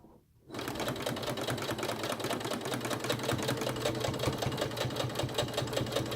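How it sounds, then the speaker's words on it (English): A sewing machine stitches drawstring backpack fabric, starting after a brief quiet moment and then running as a steady, close, continuous mechanical whir until the end. "So I'm just going to sew the second piece here the same way I did the first."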